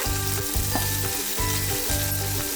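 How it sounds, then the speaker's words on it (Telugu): Ginger garlic paste and mint sizzle and fry in a pan for chicken biryani, a steady close crackling hiss with soft rhythmic stirring scrapes repeating through it. "గోల్డ్ కలర్ వచ్చేటప్పటికి ఫ్రై అయిపోద్ది అనమాట."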